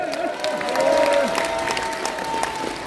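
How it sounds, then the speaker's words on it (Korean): A gathered crowd applauds after a preacher's address, a brief dense burst of clapping with some cheering, fairly close and loud, while a voice talks over it. "그렇게 생각하시면 한번 박수 한번 쳐보세요."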